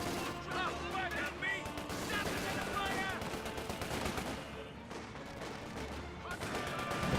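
Game gunfire from a Company of Heroes 2 battle, with rapid automatic bursts and scattered shots crackling continuously over a dense, busy battle din, while a voice talks throughout.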